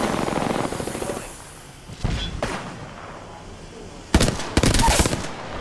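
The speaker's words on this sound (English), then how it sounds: "The enemies are shooting at me." Rapid bursts of enemy gunfire in the shooter game Apex Legends, several separate volleys with sharp onsets, loud and close, mixed with game sound effects.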